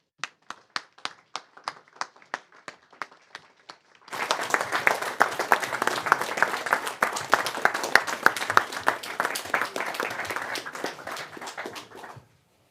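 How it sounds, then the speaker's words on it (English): Audience applause for a host and guest speaker at an evening talk event: a few scattered claps at first, then the whole room breaks into sustained, dense clapping that continues for about eight seconds before cutting off. "Please give a very, very warm round of applause"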